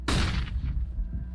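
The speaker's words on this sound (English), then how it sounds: "Throwing flashbang." A single loud, close flashbang grenade blast from a video game, a sharp bright burst that booms and then decays with a rumbling tail over about a second.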